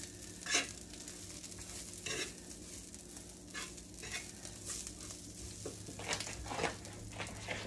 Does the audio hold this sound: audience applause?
no